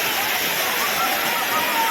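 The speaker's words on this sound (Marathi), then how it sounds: "एवढा मोठा धबधबा आहे" Sawdav waterfall in Konkan thunders in a constant, close rush of white water, loud and unbroken throughout the short stretch.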